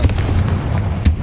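A Confringo blasting spell bursts with a short, loud booming blast in Hogwarts Legacy, then a second punchy burst follows about a second later, heard alone without talk.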